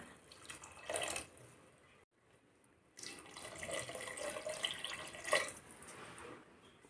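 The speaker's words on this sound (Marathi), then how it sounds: "हवं तेवढं पाणी घालायचं आहे आपल्याला" Water is poured into a pressure cooker of fresh green peas in two quiet, splashy bursts separated by a short pause, heard faintly close by with no talking.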